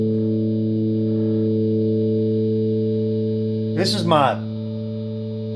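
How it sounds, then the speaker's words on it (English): Electric guitar through an op amp distortion pedal, feeding back: a sustained, steady distorted tone with stacked harmonics holding for several seconds, briefly interrupted by a short spoken phrase near the end. "op amp distortion. It feeds back."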